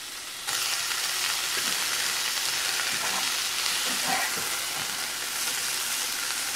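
Spinach and kale greens with their stems sautéing in olive oil with garlic and a pinch of salt, a steady close sizzle with occasional soft stirring clicks and no voices.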